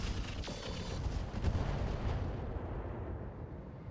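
Weapons fire in a RogueTech mech battle: a burst of heavy booming shots and rumbling blasts, loudest early and then rolling off into a fading low rumble, with no voices.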